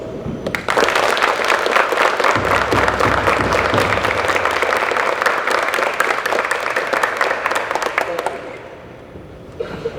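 Audience applause for squad leaders at a police cadet graduation, a dense, sustained ovation of many hands that swells quickly, holds steady for several seconds, then tapers off near the end.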